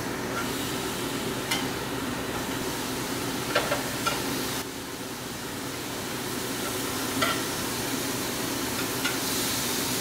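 Marinated ahi tuna center-cut steaks sizzle steadily on a hot griddle, a close, continuous frying hiss with a few faint clicks of a utensil scattered through.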